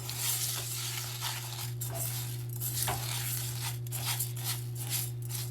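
Two cups of raw white rice stirred through hot oil in a pan, giving a steady close sizzle with soft scraping strokes over a constant low hum, no voices.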